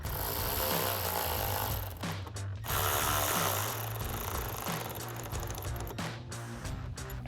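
A ratchet tightens the fender flare bolts on a Toyota Tacoma, producing loud rapid mechanical clicking and rattling bursts with short pauses between strokes, close to the listener.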